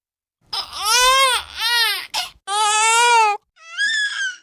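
A baby rabbit's crying in a story is voiced as several high, wavering wails and whimpers in short bursts, each separated by silence. The cries sound like a human imitation of an infant crying.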